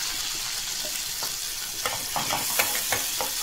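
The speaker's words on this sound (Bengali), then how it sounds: "এবার এক সাইডে একটু রসুন দেবো।" Garlic sizzles in a hot pan beside tomato and spices such as nigella seeds and turmeric, a steady frying hiss with soft stirring scrapes and small crackles, close and continuous with no talk.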